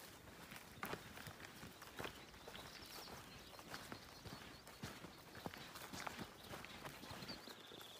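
A pony's hooves clip-clop in a quick trotting rhythm along a hiking trail, faint and somewhat distant, with steady outdoor background noise.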